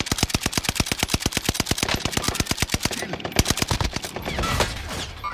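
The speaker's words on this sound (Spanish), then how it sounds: "Me están disparando" Rapid automatic gunfire in Call of Duty Warzone rattles out as a fast, steady stream of loud shots, then breaks into more scattered bursts and impacts near the end.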